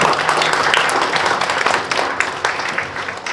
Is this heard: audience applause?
yes